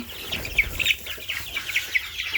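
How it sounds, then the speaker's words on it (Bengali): Young desi chicks, eighteen days old, cluck and cheep in a steady run of short, bright calls, close by and fairly loud, with no talk over them. "এই হচ্ছে আমার দেশাল মুরগির বাচ্চা"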